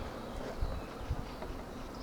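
Honey bees in a log hive during an acacia nectar flow make a faint, steady, low buzz, with a couple of soft thumps and no voices.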